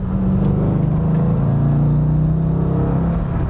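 A 2002 Corvette C5 Z06 engine droning close and loud, its low rumbling tone rising as the revs climb, continuous with no talking.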